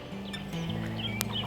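Young hybrid, commercially bred egg-laying hens make soft, low clucking and trilling calls that overlap in a short, close burst, with a brief sharp click near the end.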